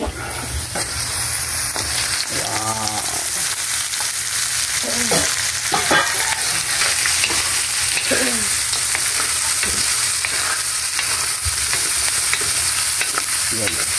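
Native chicken frying in a hot pan, a loud continuous sizzle with stirring scrapes and occasional sputters close up throughout.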